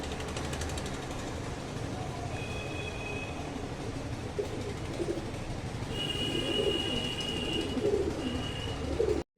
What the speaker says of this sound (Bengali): এরা পায়রা